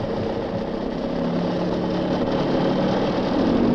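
Small aircraft engine on the takeoff roll in a gusty crosswind, a steady loud drone with low rumble and mid-range harmonics holding even and close throughout, no voices.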